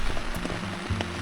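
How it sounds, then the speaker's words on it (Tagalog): Rain pattering steadily on a tent at a campsite in Dolores, Quezon: a dense, soft patter of drops with a few sharper taps, close and constant, with no talking. "naririnig mo yung patak ng ulan sa tent"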